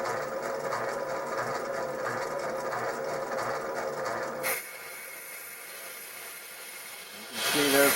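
A metal lathe turns at 350 RPM in a home shop, giving a steady mechanical whir for about four seconds before dropping to a quieter hum, with a swell of sound at the close.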